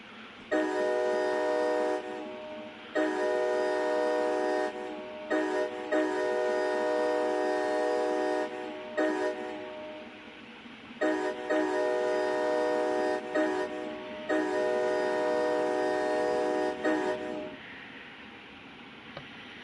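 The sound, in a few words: train running in Train Sim World 6 video game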